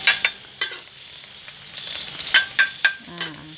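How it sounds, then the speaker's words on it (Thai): Garlic is stir-fried in soybean oil, a soft, even sizzle under sharp clanks and scrapes of a utensil against the pan, irregular and close, with a brief low squeak near the end and no talking. "ผัดให้หอมๆค่ะ"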